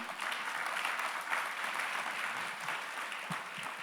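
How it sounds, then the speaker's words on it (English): An audience at an animation summit and awards event applauds steadily, a dense, even patter of clapping hands lasting several seconds at moderate distance. "Come on, she deserves a larger round of applause."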